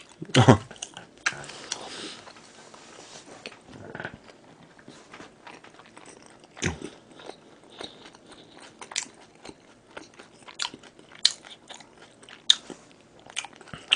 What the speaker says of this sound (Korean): 천천히 꼭꼭 씹어 먹는 게 뭐가 이렇게 잘못된 거냐고